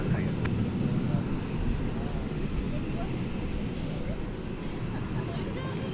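An airliner at DFW Airport approaches runway 18 left at night, a steady broad engine roar holding at the same level throughout, distant to mid-range, with a voice speaking over it.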